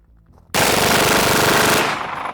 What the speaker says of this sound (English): it makes that semi-auto MP5 fully automatic